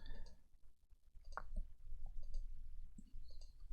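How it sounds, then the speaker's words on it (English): Sharp, isolated computer mouse clicks, a few scattered over a few seconds, close and fairly quiet above a low background hum while someone plays a PC game. "I can do it entirely with the mouse if I want to. You'll probably hear me clicking it a lot"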